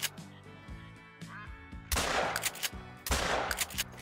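Two loud shotgun blasts fired at incoming ducks in the hunting game theHunter: Call of the Wild, each followed by a short rolling echo over a quiet outdoor ambience with faint tonal calls.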